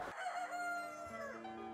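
A rooster crows one long, clear, loud cock-a-doodle-doo at a chicken farm with sand-floored runs, its call rising and then falling away.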